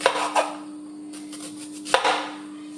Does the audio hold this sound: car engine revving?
no